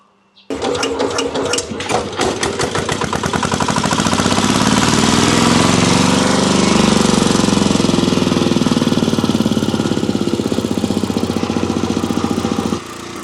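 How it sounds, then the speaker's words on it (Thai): A Kubota RT140 walk-behind tractor engine, bored out to 155, starts and runs steadily in a loud, close, rapid single-cylinder diesel chatter for about twelve seconds before cutting off. "เดี๋ยวเรามาฟังเสียงกับเครื่อง กันนะคะ"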